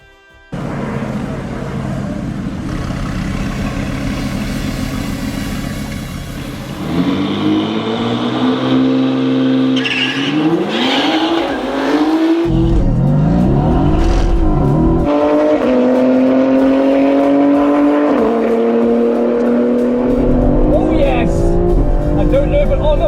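A BMW X3M drag-races a supercar, engines revving hard and accelerating through rising gear pulls with loud, sustained roaring, while someone talks over the run.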